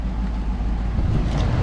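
An old, rusty junker car engine idles with its exhaust removed, a loud, steady low rumble that holds constant and close with no voices.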